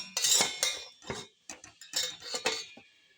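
Metal plate set over a cooking pot while making thiruvathirai kali: a quick series of close, bright clinks and clatters of metal on metal, with no speech.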